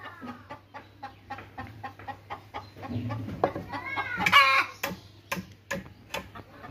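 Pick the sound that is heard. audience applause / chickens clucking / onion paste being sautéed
chickens clucking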